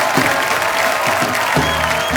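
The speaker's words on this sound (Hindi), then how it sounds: "एक बार जोरदार तालियां कुछ रंग प्यार के ऐसे भी पूरी टीम के लिए" Studio audience applauding to welcome guests onto the stage of The Kapil Sharma Show, a steady close burst of clapping that fills the whole stretch with a faint crowd murmur beneath it.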